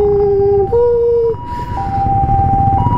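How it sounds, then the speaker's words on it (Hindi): A loud, close ambulance siren cycling between two tones, with traffic rumble underneath. "एम्बुलेंस।"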